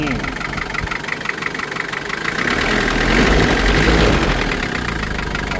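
A used Toyota or Isuzu pickup's engine idles with the hood open, a steady close mechanical rumble with a light ticking clatter that swells briefly midway, heard up close with no speech over it.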